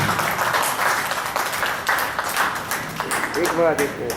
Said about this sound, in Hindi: मैं चाहूंगा जोरदार तालियों से इस्तकबाल कीजिए